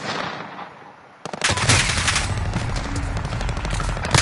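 Rapid automatic gunfire in a shooter video game bursts in after a brief quieter lead-in, then continues as dense, loud, sustained volleys of shots.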